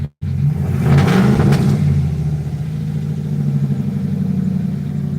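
A pickup truck engine revs hard and loud up close, then settles into a steady, throbbing idle with a rough, pulsing rumble.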